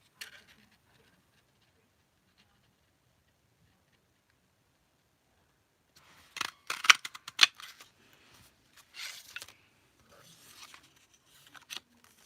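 Scissors cut paper for card making, a few seconds of silence followed by a cluster of sharp close snips and crisp paper rustles in quick bursts, then sparser cuts trailing off.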